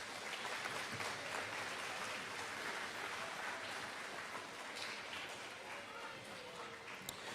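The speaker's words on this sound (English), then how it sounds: "let's give all of our all-year honor roll students a big round of applause" Audience applause for all-year honor roll students at a 2021 middle school awards ceremony, a fairly quiet, continuous patter of clapping that thins slightly toward the end, with faint voices mixed in.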